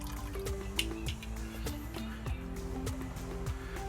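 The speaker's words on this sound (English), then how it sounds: "We add 1 teaspoon of Chinese cooking wine to the water." Chinese cooking wine poured into a pot of water for Luzhu pork ribs, a faint series of small drips and splashes with a light trickle, close by and quiet.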